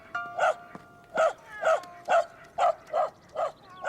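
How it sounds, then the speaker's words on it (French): A dog barks in a quick series of about eight sharp, evenly spaced barks, fairly close and alone. "Le chien est parti maintenant."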